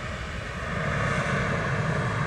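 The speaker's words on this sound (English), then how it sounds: "Great noise from that Embraer" Steady, loud roar of an Embraer jet's engines at Manchester Airport, a broad continuous rumble and hiss that swells slightly and holds throughout, with no voices.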